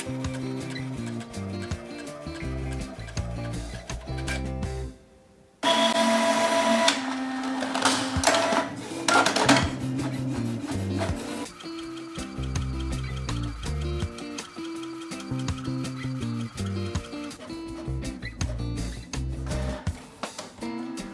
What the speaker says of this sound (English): Speeding up the video a little bit while printing auto two-sided.